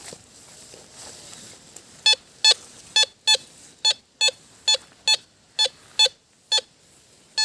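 EuroTek Gold metal detector beeping over gold, a steady series of about a dozen short, sharp electronic beeps at an even pace over a faint background hiss.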